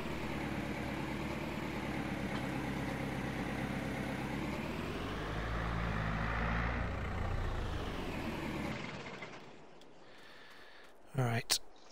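A tractor engine idles in Farming Simulator 22, a low steady rumble with a slight swell in the middle before it drops away, followed by a brief sharp clatter near the end.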